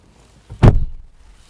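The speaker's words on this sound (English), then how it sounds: "Now, listen to this door as I close it." An Audi Q5 55 TFSI e Quattro plug-in hybrid SUV door swings shut with a single heavy, solid thunk, close by, followed by a short dull resonance and then quiet.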